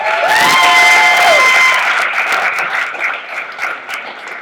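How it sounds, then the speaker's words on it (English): A poetry jam crowd bursts into loud cheering and whooping for the poets, high shouts rising over steady clapping at first, then settling into applause that gradually fades. "A round of applause for all the poets tonight"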